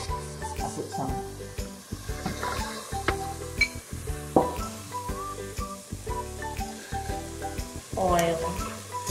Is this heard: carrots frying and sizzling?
yes